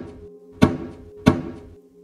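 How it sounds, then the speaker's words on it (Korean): Two heavy, drum-like thumps land outside about two-thirds of a second apart, each a dull booming hit with a short ringing tail, for a horror radio drama. "북소리 같았다"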